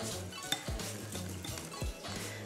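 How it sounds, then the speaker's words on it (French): Egg white and a few drops of lemon get stirred into icing sugar for Christmas shortbread icing. A utensil clinks and scrapes against a bowl in a steady, close rhythm of repeated knocks, with no voices. "On récupère notre blanc d'œuf et on le verse sur le sucre glace. On ajoute quelques gouttes de citron et on vient mélanger"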